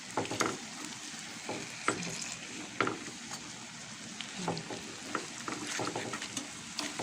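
Soft, steady sizzling of turon frying in oil with the heat off, with occasional light clatter of a utensil stirring, quiet and continuous.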